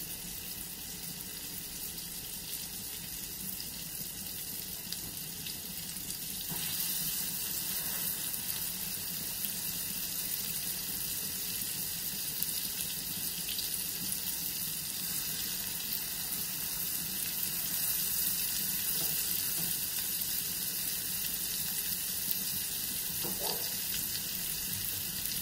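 Steaks made from hamburger meat frying in a well-heated pan: a quiet, continuous hiss and sizzle that grows slightly louder partway through and holds steady, with no one talking.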